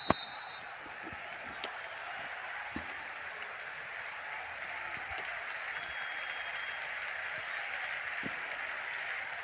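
An audience claps together in a steady, continuous wash of applause that holds at an even level throughout, with no single claps standing out.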